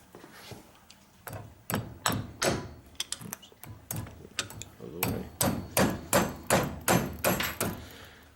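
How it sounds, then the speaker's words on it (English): Sharp, ringing hammer blows strike metal while replacing a Jeep Grand Cherokee propeller shaft, sparse at first and then in a fast, steady series of loud, close hits. "you want to pound that flat"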